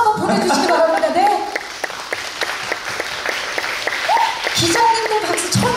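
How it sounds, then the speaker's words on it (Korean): Reporters at a singer's media showcase applaud in a brisk round that runs steadily for several seconds. A host's voice sounds over the clapping at the start and again toward the end. "박수 한번 보내주시기 바랍니다."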